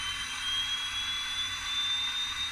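A Hot Wheels Aerocargo toy plane, made in France, gives off its electronic acceleration sound: a loud, steady, shrill jet-like whine that rises slightly in pitch and runs without a break.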